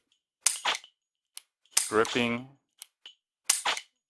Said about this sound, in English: practicing trigger pull, even strengthening my trigger finger because this is a double action